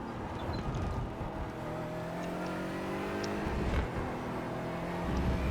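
A GT4 race car in the iRacing sim accelerates up through the gears. Its engine pitch climbs steadily and drops at each shift, with a continuous whirring drone and no voices.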